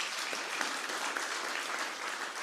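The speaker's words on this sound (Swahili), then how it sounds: "Tupigie Shofco makofi." Steady applause from an audience at a cooperative-movement address, a dense, even wash of clapping that holds at a moderate level for the whole stretch, with no voices over it.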